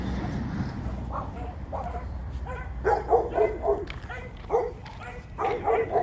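A puppy barks and yips in short bursts over a low rumbling background, the barks coming in irregular clusters at moderate distance.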